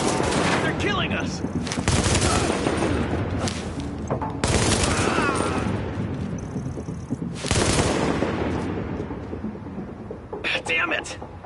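Dense bursts of automatic gunfire from a firefight in the video game The Division, loud and continuous with repeated volleys, while shouting voices talk over the shooting.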